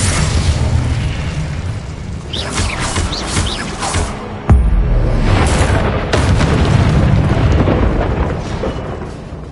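A loud fiery burst from an Incendio fire spell cast in Hogwarts Legacy on PS5, with rumbling booms swelling and a sharp blast about midway, dense and sustained throughout.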